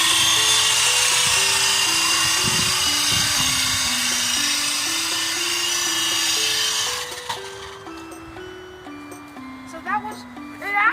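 A small remote control helicopter drone flies nearby with a whining rotor and motor. Its pitch steps up and down as the throttle changes, then it drops away and ends in scattered short buzzes.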